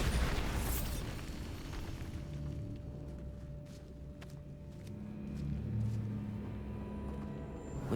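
A spell-cast explosion booms at the start inside a dark tomb in Hogwarts Legacy, followed by a low rumbling tail and faint eerie ambient tones for several seconds.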